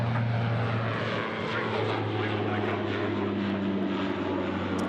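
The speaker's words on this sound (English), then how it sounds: "Qantas 11 now is cleared for takeoff, runway left" A Qantas airliner rolls for takeoff on a Sydney Airport runway, its engines a loud, steady roar with a low drone throughout and no voices.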